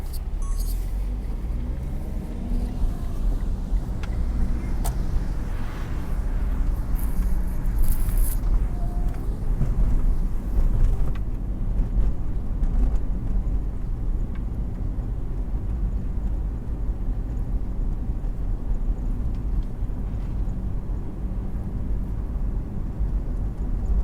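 Car driving through a Beverly Hills residential street at Beverly Glen Boulevard and making a left turn, with a steady low engine and road rumble throughout, heard from inside the cabin without talking.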